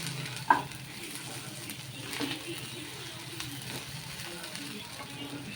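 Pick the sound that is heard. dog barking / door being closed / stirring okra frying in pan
stirring okra frying in pan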